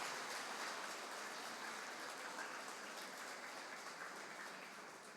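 An auditorium audience applauds the caretakers at a retirement and assisted living facility event, a broad, continuous wash of clapping heard from a distance that fades slightly toward the end.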